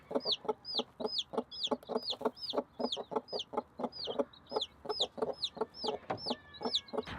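Hens clucking in a backyard coop with chicks, a steady rhythmic run of close, repeated clucks with higher chirps over the top.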